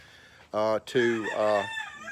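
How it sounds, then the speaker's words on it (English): A rooster crows nearby, a loud, drawn-out call rising and falling in several segments. "sorry, my rooster"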